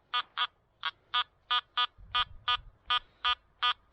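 Repeating electronic beeps from a metal detector on a beach, short even tones pulsing steadily about three per second, with faint rustling and thuds underneath.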